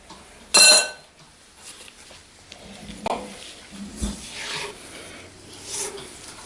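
A spatula and gloved fingers scrape and rub cookie dough off a mixer beater and the mixing bowl, opening with a sharp metallic scrape, then softer intermittent rasping and knocks.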